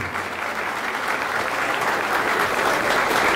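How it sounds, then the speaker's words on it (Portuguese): Steady, dense applause from a large audience fills a São Paulo state government event announcing airport investments, sustained throughout without a break. "Pode aplaudir, pode."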